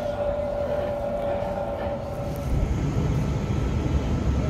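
A Waratah electric passenger train rumbles and whines nearby, with a sustained tonal hum fading as a broad rolling roar builds.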